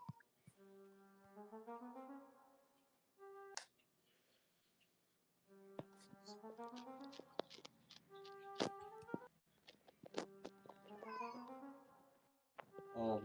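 A pet cat gives a series of drawn-out meows, some rising and some wavering, spaced through a quiet room with short clicks and thumps in between.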